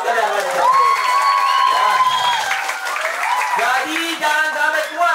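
Children at a one-day English and character camp in Bekasi cheer and clap together, a lively crowd burst of high voices and applause with an adult speaking over it.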